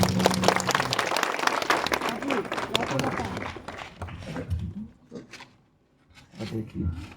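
Congregation clapping at a vehicle inauguration, loud dense clapping for several seconds that fades out, followed by a voice speaking and a brief return of clapping.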